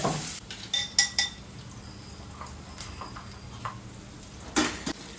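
Onions with cloves and star anise fry in a pan on the stove, a soft continuous sizzle under intermittent clinks and scrapes of a spoon against the pan, close and moderately quiet.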